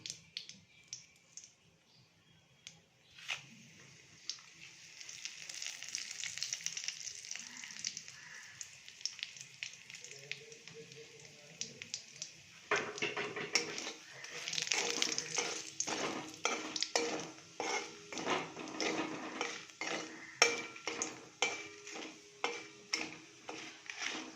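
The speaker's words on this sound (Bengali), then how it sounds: "ওই ভাজা আলুর তেলের মধ্যে আমরা এবার ফোড়ন দিয়ে দিচ্ছি শুকনো লঙ্কা, তেজপাতা, গোটা গরম মশলা আর জিরে।" Dried red chilli, bay leaf, whole garam masala and cumin hit hot oil left from frying potatoes, setting off a quiet hiss that bursts into brisk sizzling and crackling about halfway, with rapid ticking pops continuing to the end.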